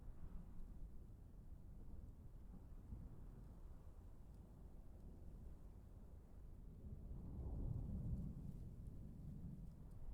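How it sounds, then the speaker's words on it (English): Steady rain falls in a video game, a soft, constant hiss with low rumbling that swells slightly toward the end, with no voices. "It's just rain right now."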